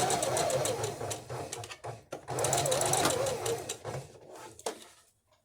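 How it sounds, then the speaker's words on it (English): A sewing machine hums and chatters close by as it stitches fabric in a couple of bursts, pausing briefly between runs, with a voice speaking over it. "start sewing"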